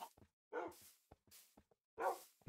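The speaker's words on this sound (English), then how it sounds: "Now I have 3 more dogs." Several tamed dogs in Minecraft bark in short, sharp bursts, two louder barks separated by quieter yips and whimpers, close and distinct with silent gaps between.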